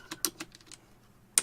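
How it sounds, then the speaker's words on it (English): Fingers tap on a computer keyboard in a short, uneven burst of about five close clicks, then a pause and one final sharper keystroke. "And then that's why you guys heard me typing and shit."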